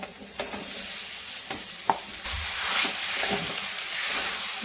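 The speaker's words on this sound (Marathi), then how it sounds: "आपण त्यात आता हे कुस्करून घेतलेलं बटाट टाकू" Mashed potato stirred into sizzling fried masala for kat vada, a loud steady sizzle with a hissing swell and a few clanks of a spoon against the pan, close and with no talk.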